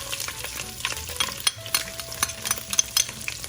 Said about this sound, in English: we're going to add in our ginger and garlic first